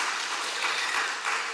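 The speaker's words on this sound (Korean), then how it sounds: "지금 박수를 해주셔도 좋은데요" An audience at a Wednesday church prayer meeting gives a short, steady burst of applause. The dense clapping stays even and fairly close for its whole length and sounds alone, with no voice over it.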